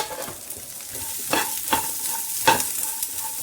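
Peanuts, green chillies and garlic roast with salt in a pan, a soft steady sizzle punctuated by a few sharp scraping stirs, close and without talk.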